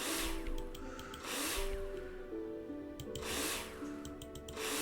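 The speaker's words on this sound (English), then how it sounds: "Take your drill out and screw them in." Cordless drill in the video game Builder Simulator driving screws into plasterboard, with several bursts of whirring motor noise separated by short pauses, steady and fairly close, with no talking.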